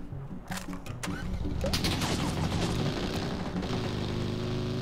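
Rapid gunfire bursts in a battle royale video game crackle in dense, overlapping volleys under continuous in-game sound, loud and busy throughout.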